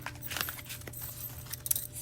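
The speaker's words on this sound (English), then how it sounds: "Alright, so I am shuffling." A tarot deck is shuffled by hand, giving close, crisp bursts of card rustling and riffling in short irregular spurts, fairly quiet against a still room with no talking.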